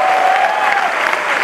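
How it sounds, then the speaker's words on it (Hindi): A packed hall audience at an Amway business event claps hard and continuously, a dense, loud wash of applause with a faint whistle-like tone drifting through the first part. "दोस्त, तालियां बजाओ तो अपने लिए बजाओ, दिल से बजाओ, चिल्ला के बजाओ"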